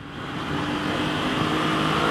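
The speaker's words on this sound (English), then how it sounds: "Nice acceleration, man." A 2021 Aprilia RS 660 motorcycle on a short test ride accelerates with a steady, rising engine drone mixed with wind rush, loud and continuous across the brief moment.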